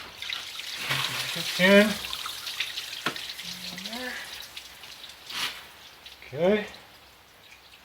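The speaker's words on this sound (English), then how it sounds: "now that tube will pull sideways off the thermostat and coolant will come out" Coolant splashes and trickles from a tube pulled off the thermostat of a VW/Audi 1.8T engine. The liquid sounds are faint and patchy, and a person speaks briefly between them.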